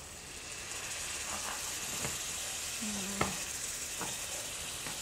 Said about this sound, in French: Allez, on les déglace un petit peu avec l'armagnac